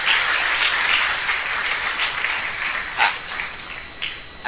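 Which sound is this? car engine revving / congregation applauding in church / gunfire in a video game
congregation applauding in church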